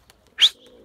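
A young blue pigeon gives a single short, sharp chirp-like call, close and clear against near silence.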